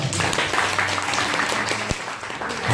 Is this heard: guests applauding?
yes